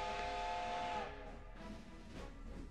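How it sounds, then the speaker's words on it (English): A train's steam whistle in the video game Code: Realize sounds one steady, loud, tonal blast for about a second, then trails into hissing steam and the low rumble of the train starting off. "The whistle blows again, and the scenery outside the window begins to move slowly."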